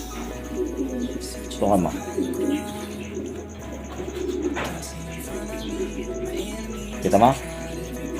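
Pigeons cooing in a pen with an expensive breeding pair of Slovenian birds: repeated low throaty coos close by, with a person talking in Filipino over and between them.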